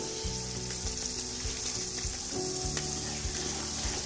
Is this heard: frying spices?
yes